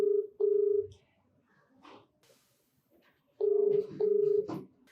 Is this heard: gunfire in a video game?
no